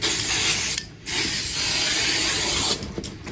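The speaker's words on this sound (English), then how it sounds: "A little more hairspray." Hairspray hisses onto curly hair in two long, steady bursts, loud and close, separated by a brief pause.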